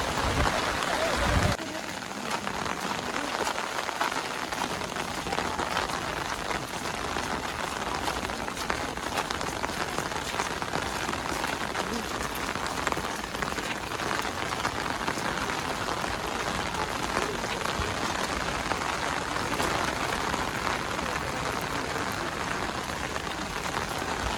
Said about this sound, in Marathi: तर जोरदार पाऊस आला